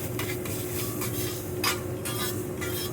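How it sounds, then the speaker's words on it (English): Seared avocado cubes stirred together with other ingredients in a bowl, soft wet scraping and mixing strokes repeating close by over a faint steady kitchen hum. "You're gonna mix all that together."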